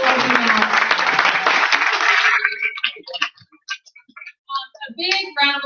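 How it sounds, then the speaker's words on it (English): A crowd at a training event bursts into loud, dense applause that fades after a couple of seconds into scattered claps and a voice speaking. "A big round of applause"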